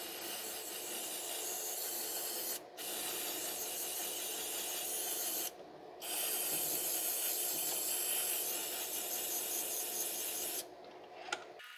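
Throttle body cleaner hisses from an aerosol can onto the carbon-fouled throttle body of a 2006 Mazda 3 with a 2.3 engine, loud close bursts of spray broken by brief pauses, several seconds each.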